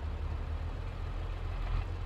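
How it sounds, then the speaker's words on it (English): An International tractor's engine in Farming Simulator 22 running with a heavy, steady low rumble, close and constant with no talk. "Start the tractor on up."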